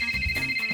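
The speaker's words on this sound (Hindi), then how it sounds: "ओए, मोबाइल है, डोरबेल नहीं जो बजाया जा रहा है।" A mobile phone ringing with a steady electronic ringtone, a sustained bright tone repeating in a short pulsing pattern, fairly close and clear, with no talking over it.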